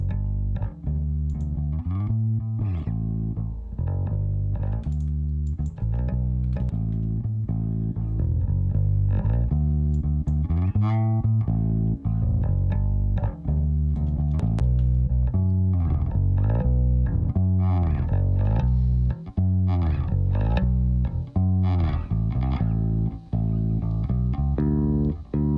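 A distorted, gritty bass guitar sits inside a full, loud song mix, playing continuously alongside the other instruments for the whole passage.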